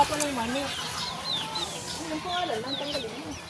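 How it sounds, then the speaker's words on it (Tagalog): Chickens clucking and murmuring nearby in a series of soft, wavering calls while eating, with quiet background noise throughout. "Ayan, nakain yung manok."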